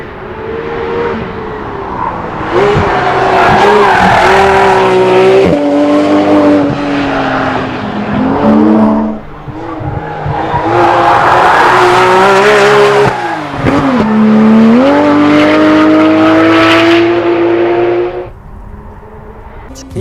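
A Porsche 911 GT3 RS exhaust roars loud and close through repeated hard revs and rapid upshifts, engine pitch climbing and dropping in two long full-throttle pulls before settling to a lower drone.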